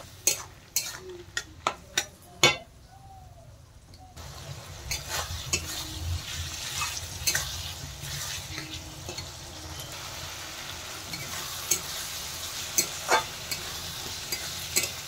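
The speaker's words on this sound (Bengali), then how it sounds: "এখন এর মধ্যে আমি বরবটির বীজগুলো দিয়ে দিলাম। দিয়ে আর একটু কষিয়ে নেব।" Yardlong bean seeds sautéing in spice paste for an egg curry: several sharp utensil clanks against the pan at first, then a steady close sizzle with scattered stirring taps, no talking.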